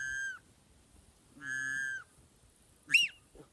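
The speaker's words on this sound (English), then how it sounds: "And this is pretty much the widgeon whistle." Two sustained high, reedy whistle notes from a widgeon whistle duck call, then a short warbling chirp, with quiet pauses in between.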